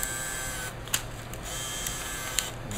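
An office-style printer whirs steadily as its paper feed tries to catch a sheet, with a couple of sharp clicks breaking the continuous mechanical drone.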